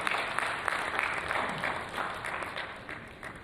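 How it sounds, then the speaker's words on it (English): Seminar audience at an engineering education event applauding a panelist, a moderate, fairly distant wash of clapping that swells and dips slightly throughout. "invite Mr. Sanjay Prakash from Jindal Water Give him a warm round, good round of applause."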